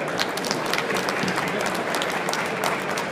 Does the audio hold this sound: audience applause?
yes